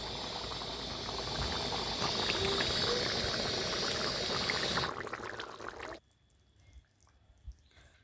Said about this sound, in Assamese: মোৰ চব্জিখিনি উতলিছে